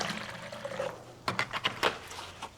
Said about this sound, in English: So I have my cup. I'm gonna put some water in here.